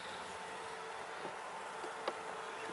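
Honeybees hum at an open hive during a check of queen cells, a soft, steady drone filling the background with a brief closer buzz as one bee passes near.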